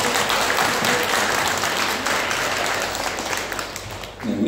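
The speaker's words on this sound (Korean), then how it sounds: "우리 하나님께 영광 박수 한번 돌릴까요?" A church congregation at a Sunday service in Bali breaks into loud, sustained applause, a dense wash of many hands clapping steadily close by for the whole stretch.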